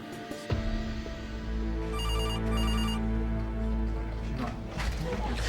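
A telephone rings in an outback hospital emergency department with a steady electronic ringtone. Its bright repeating tone pattern sounds twice above a low background hum.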